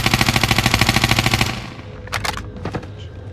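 Rapid automatic gunfire in a video game rattles in a loud, steady burst for about a second and a half, then gives way to a few sharp, scattered shots in the distance.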